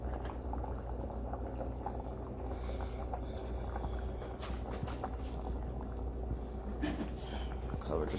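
Homemade dog food for a blue nose pitbull puppy simmering in a pot on the stove, a steady bubbling and gentle popping at close range, with a few sharp clinks of a utensil.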